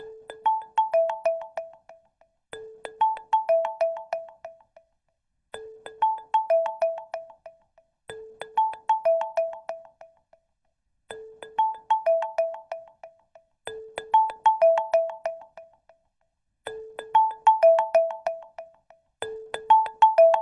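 A phone ringtone in a VR active shooter survival training game rings in eight evenly spaced bursts, each a short bright melodic pattern followed by a pause, loud and alone.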